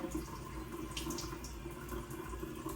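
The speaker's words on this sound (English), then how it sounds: "wet thoroughly the hands, but make sure that the temperature of the water is warm" Warm tap water runs from a faucet over hands being wetted for a nursing handwashing demonstration, a steady splashing stream at close range with small splatters as hands move under it.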